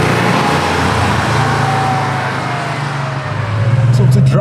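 A 1988 Porsche 911 drives along with a steady, loud engine hum and road noise, the engine note rising slightly toward the end.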